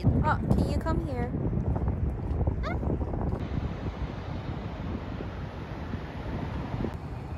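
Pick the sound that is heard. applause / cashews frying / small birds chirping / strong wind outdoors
strong wind outdoors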